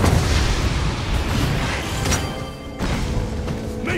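A turret is destroyed in the tank-hero video game Lian Po: dense, loud battle noise with booming blasts and crashes, a heavy rumble throughout and sharp impacts near the middle and later.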